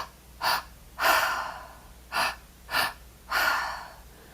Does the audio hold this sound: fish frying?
no